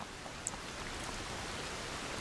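Steady rain hisses softly and evenly across an outdoor area in the battle royale game Ring of Elysium, with a faint drip or two, no other sounds standing out.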